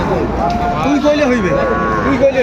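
A young Sahiwal bull calf lets out a few short, wavering moos close by at a cattle market in Dinajpur, with voices murmuring faintly in the background.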